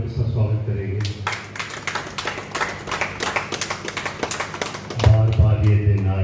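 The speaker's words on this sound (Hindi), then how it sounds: "जोरदार तालियों के साथ स्वागत करेंगे" Audience clapping at a 96th birthday celebration in Ajmer, with a dense burst of hand claps running from about one to five seconds, bracketed by someone speaking over a loudspeaker before and after.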